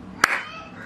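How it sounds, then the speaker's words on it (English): A single sharp hand clap close to the microphone sets off an Arduino clap switch with a sound sensor, a brief crisp snap that fades quickly into a quiet room. "once I give the clap, the light is turning on"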